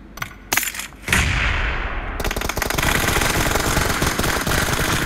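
Sustained automatic M4 rifle fire in the video game PUBG, loud bursts that start after a few isolated shots and then run as a dense, continuous rattle through most of the clip.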